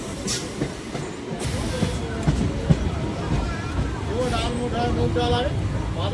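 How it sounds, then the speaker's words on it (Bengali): A MEMU commuter train rolls into Dhubulia station, a close, continuous rumble of wheels on track with faint clatter and a few voices mixed in. "এখন আমাদের ট্রেন ঢুকলো"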